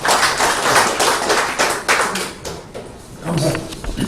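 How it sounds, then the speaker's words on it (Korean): Audience applause at a lecture forum in Korea, with bursts of clapping greeting invited guests, loud and close, rising and easing in waves over a few seconds. "박수 한번 보내주세요"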